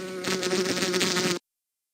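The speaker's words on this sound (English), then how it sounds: "When a mosquito flaps its wings very fast, a buzzing sound is produced." A mosquito's wings buzz in a close, steady high drone lasting just over a second, then stopping abruptly into silence.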